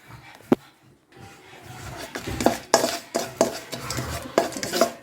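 Cinnamon, cloves and cardamom sautéing in a pan, a spoon scraping and clattering against the metal in a run of close, rhythmic stirring strokes over a faint sizzle, with no voices.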